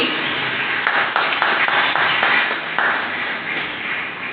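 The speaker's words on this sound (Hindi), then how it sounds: "एक बार ताली बजा के स्वागत करो" An audience at a school gathering claps steadily to welcome a student, a dense, even patter of many hands with a few sharper claps standing out.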